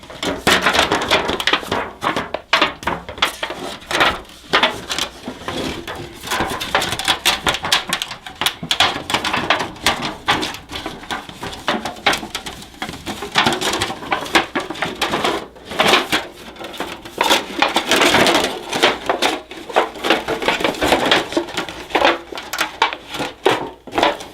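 An ultralight reflector oven is folded by hand, a long run of dense crinkling, clicking and rustling of thin metal sheet at close range, in uneven bursts with short pauses.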